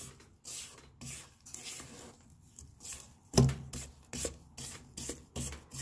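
A spatula scrapes butter down the sides of a mixing bowl while red velvet cake batter is being made, giving quiet intermittent rubbing and scraping strokes, one louder knock partway through, fairly close and faint overall.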